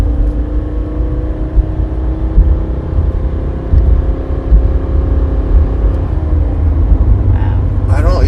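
Steady engine whine from a 2013 Subaru XV CrossTrek with a CVT holding high RPM, a continuous droning hum under road rumble heard from inside the cabin, with a shift in pitch near the end and faint voices.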